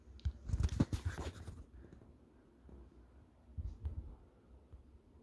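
Marker or chalk scratches across a board during a math lesson on first-degree functions, a quiet burst of scratchy strokes followed by a short second burst after a pause, faint and close with no talk.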